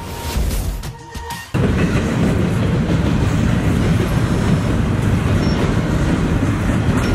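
A train rushes past on a railway in Bellevue, Ohio, a loud, steady rumbling roar that starts abruptly and carries on close by without a break.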